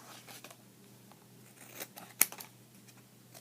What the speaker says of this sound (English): and then I cut it out.